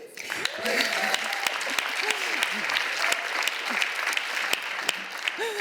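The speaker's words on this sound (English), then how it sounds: "You should have held your applause" A State of the City address audience applauds steadily, with dense clapping filling the room and a few voices murmuring underneath.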